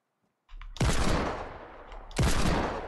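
Two loud bursts of automatic gunfire from a Fortnite Battle Royale match, each a sharp crack followed by a sustained rattling roar, the second about a second and a half after the first, with no talk over them.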